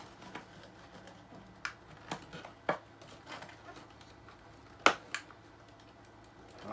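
Scissors snipping rubber bands off the packaging of a Black Series Sandtrooper and Dewback deluxe set: a few sparse, sharp little clicks and snaps spaced across a quiet room, close and fairly soft, with no talk.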